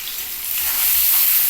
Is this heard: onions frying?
yes